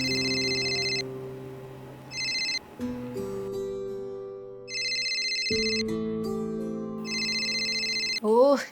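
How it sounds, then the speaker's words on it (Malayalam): A telephone rings repeatedly with a bright electronic ringtone in bursts, set over a steady, tonal background music bed, with no speech over it. "എത്ര നേരം അതിരുന്ന് റിങ് ചെയ്യുന്നു"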